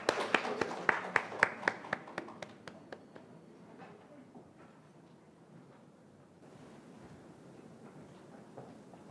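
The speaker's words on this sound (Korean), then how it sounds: "정민아 학생의 연설을 박수로 맞이하겠습니다." Audience at a youth speech contest clapping to welcome a student speaker: a short burst of sharp, distinct claps from a small group in a quiet hall, tapering off within two seconds into low room noise.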